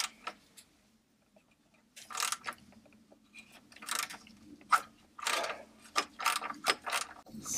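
A hand ratchet clicks in quick, uneven bursts as it loosens the clamp joining the lower section to the pipe of a motorcycle exhaust, close up and loud against a quiet background.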